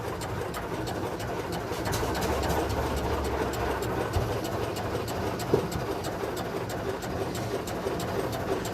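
The engine of a 1906 Reo Model B runs at a steady, even chug, close and moderately loud, with a faint clank partway through and no talking.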